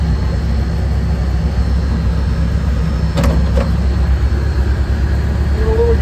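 The engine of a John Deere 45 combine runs at a loud, steady drone, rising slightly as throttle is given, with a few brief clanks.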